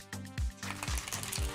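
Tarot cards being shuffled by hand close up, giving a few soft papery riffles and light taps in quick bursts, with a faint low hum underneath and no talking.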